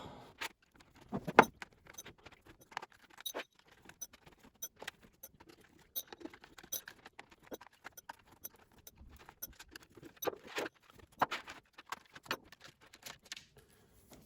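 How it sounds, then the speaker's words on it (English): Screws being unscrewed from the case of a Casio FP-200 computer make quiet, sparse metallic clicks and small rattles in irregular bursts, close up in an otherwise silent room. "So let's see if we can screw all of these off."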